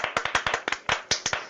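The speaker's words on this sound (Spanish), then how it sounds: "Un aplauso para el maestro Pérez Gay" A studio audience claps for a guest on a Mexican TV talk show, a short burst of quick, uneven hand claps close by, with no voices over it.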